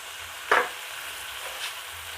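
Tomatoes sautéing with onions in a pan give a soft, low sizzle close by, broken by one sharp scrape or stir near the start and a fainter one later.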